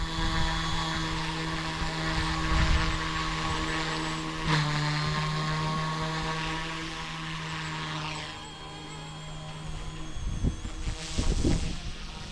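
An Eachine E190 Huey RC helicopter spools up to idle outdoors in a park, its rotor whine holding a steady tone, dipping slightly as the throttle is nudged, with a light breeze.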